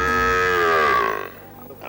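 A cow calf gives one close, drawn-out moo that tapers off after about a second, followed by faint background noise.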